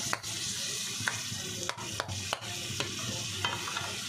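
Ground pork with tomato sauce sautéing in a pan, a steady sizzle broken by repeated scraping strokes of a utensil stirring the meat, close and fairly loud with no talking.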